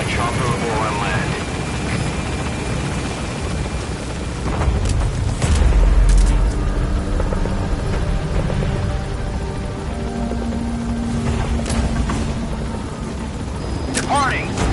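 In Metal Gear Solid V, a helicopter carries the player out of a hot zone with a steady rotor and engine roar, a deep boom near the middle, and a voice speaking over it.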